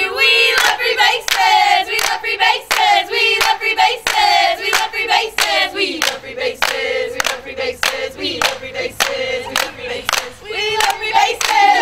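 Cheer squad at a baseball game performing a rhythmic clapping chant, sharp synchronized hand claps in a steady beat mixed with group shouts of the cheer, loud and close throughout.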